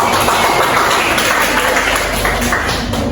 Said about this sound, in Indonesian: Terima kasih ya, Erdina, tepuk tangan.